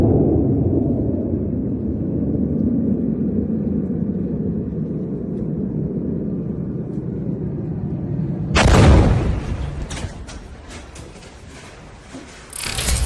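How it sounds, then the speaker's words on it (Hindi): An Iranian missile strikes a US airbase in Saudi Arabia: a low, steady rumble gives way to a sudden loud blast, followed by crackling and scattered bursts of debris. "सऊदी अरब में अमेरिका के एयरबेस पर ईरान की मिसाइल ने गिरकर"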